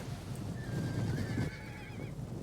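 Horses of a mounted horse archer unit in the medieval battle game Total War Medieval Kingdoms 1212 AD whinny once over a low rumble of hooves and battle noise, moderately close.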